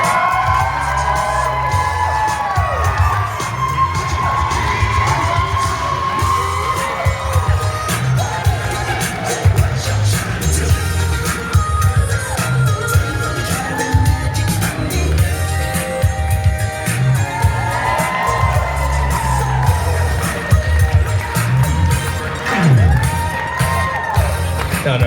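Wedding reception guests cheer, whoop and shout as the newly married couple is introduced, a loud continuous crowd roar with yells rising above it, and music or voices mixed in underneath.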